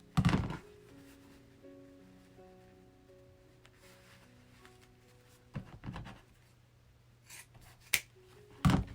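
Scissors cut through thick ribbon in halves, giving a few sharp snips and crunches near the start, middle and end, with quiet tonal background sound between the cuts.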